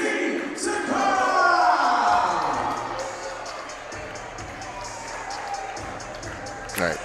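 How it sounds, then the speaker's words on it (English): A live fight-event crowd in Long Beach claps and cheers as a fighter makes his entrance, a broad roar that swells early and then fades into a lingering din, with a brief burst near the end. "Start clapping your hands and give it up for JT Sakara"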